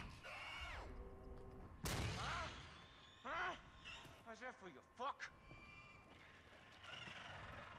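A single sharp gunshot rings out in the horror video game Until Dawn. It is a brief, loud crack set among animal-like cries and other in-game sounds.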